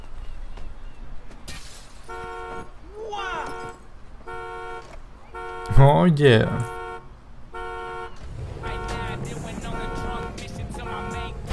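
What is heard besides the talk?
car horn honking in video game GTA 5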